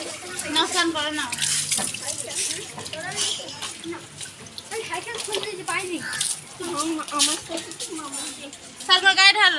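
Water is poured and splashed over a child being bathed, in uneven splashy bursts beneath continuous talking voices.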